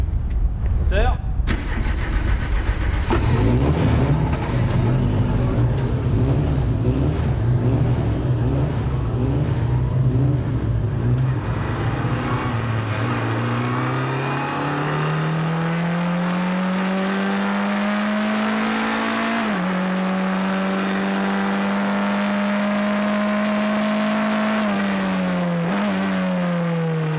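Le Mans race cars pull away one after another for the formation lap, engines loud and close at first, then rising in pitch and revving up as they move off.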